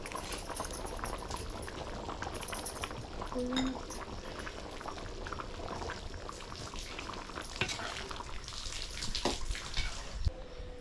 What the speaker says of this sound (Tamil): சிக்கன் கிரேவி நல்லா கொதிஞ்சிருச்சு